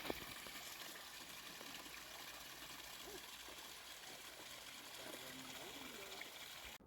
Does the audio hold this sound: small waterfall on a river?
yes